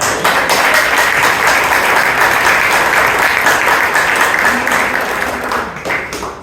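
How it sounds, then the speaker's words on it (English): A Toastmasters meeting audience in Bangalore applauds loudly and steadily throughout, a dense wash of many hands clapping that tapers slightly at the end. "let's give a lot of applause to both."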